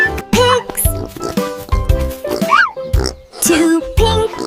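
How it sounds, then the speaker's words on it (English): Cartoonish pig oinks in a children's animal-sounds lesson, several short grunting squeals in quick succession, loud and close, mixed with playful voiced sounds. "They love rolling in mud and saying oink, oink."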